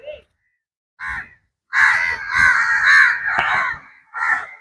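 A crow caws several times in harsh, loud calls, with short pauses between bursts, close by and with no talking.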